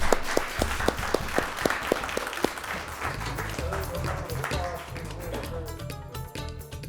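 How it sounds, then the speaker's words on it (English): An audience applauds a panel after a public discussion at a radio station event, starting with distinct rhythmic hand claps that swell into a dense, close burst of clapping before tapering off. "Could we have a round of applause for our very energetic panel?"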